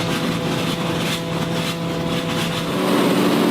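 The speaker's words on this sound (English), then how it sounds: "we're lightly blasting the anti-fouling and the primer" Blasting equipment strips anti-fouling paint and primer from a boat hull, giving a loud, steady roaring hiss with an engine-like hum beneath it and no pauses throughout.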